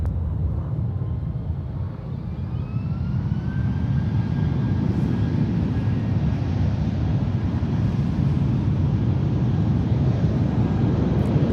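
An airliner on the runway at San Francisco International Airport, a loud steady low engine roar rising slightly in strength as the takeoff run builds.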